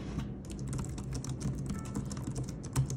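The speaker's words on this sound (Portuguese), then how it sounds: "Eu vou mostrar o barulhinho que ele faz quando você digita." Typing on a Logitech K380 keyboard: a quick, fairly steady patter of soft, close key clicks with occasional slightly louder taps, alone without talk.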